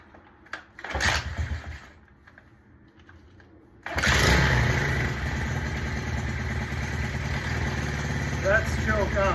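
SSR110 pit bike engine: a first brief cranking attempt, then it fires up at about four seconds and settles into a loud, steady, rattling idle, with a voice briefly over it.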